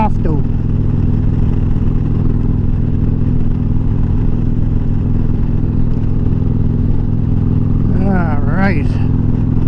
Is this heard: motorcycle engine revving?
yes